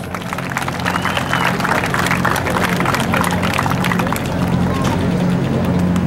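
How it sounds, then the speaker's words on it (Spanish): A crowd claps for the winners at a rodeo tournament, Expo Nacional in Bayonne, New Jersey. Dense applause fills the first few seconds and then thins, over a steady tonal hum. "El aplauso, señoras y señores,"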